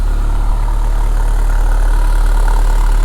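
A car engine with grey smoke coming from the exhaust idles steadily with a low, even rumble and a constant mechanical hum, loud and close, with no talking.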